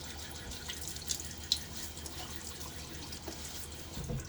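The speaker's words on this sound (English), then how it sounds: "Okay, a little water on my face." Water splashes and drips softly at a bathroom sink as it is cupped onto a face before a wet shave, faint close splashes with small peaks over a running tap.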